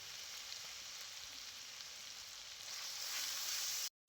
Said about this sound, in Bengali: সব কিছু খুব ভালো করে ভেজে নিয়েছি এবারে দিয়ে দিচ্ছি আমি হলুদ গুঁড়ো